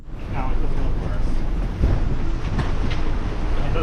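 Storm wind gusts and waves churn around a boat docked in a hurricane hole, a steady loud roar of buffeting wind with low rumbling water and occasional knocks, continuous throughout.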